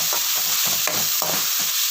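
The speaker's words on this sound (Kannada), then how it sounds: "ಇದಕ್ಕೆ ಫ್ರೈ ಆಗುವಾಗ 2 ಎಸಳು ಕರಿಬೇವಿನ ಸೊಪ್ಪು ಹಾಕುವ." Curry leaves frying in oil in a pan give a constant close sizzle, broken by regular scraping strokes of a spoon stirring, with no voices.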